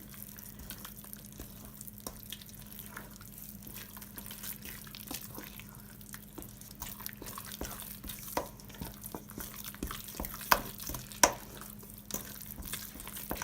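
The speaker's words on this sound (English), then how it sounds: "We should mix everything together" Cake dough being stirred and mixed by hand in a bowl, a soft, quiet, wet churning with irregular sticky clicks and a few sharper taps near the end.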